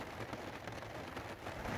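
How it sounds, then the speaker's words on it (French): Heavy rain drums steadily and densely on a camper van roof overhead, a continuous close patter with no voices. "Moi j'aime bien la pluie, mais là c'est un peu fort pour se rendormir."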